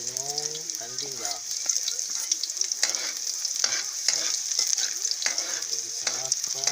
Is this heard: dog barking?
no